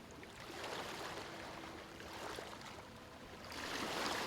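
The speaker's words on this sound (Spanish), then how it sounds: "El sonido de las olas rompiendo suavemente en la arena te rodea." Gentle ocean waves washing onto the sand of a calm beach, a steady soft wash of water that swells louder near the end, with no voices.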